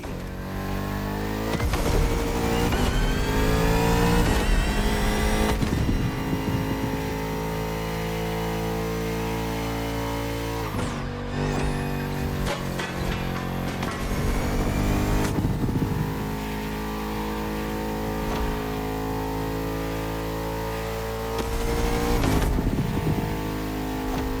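A Bugatti Vision GT hypercar in The Crew Motorfest drives hard, its engine droning loud and steady with rising revs, brief lifts around gear changes and a sharp dip midway before pulling again.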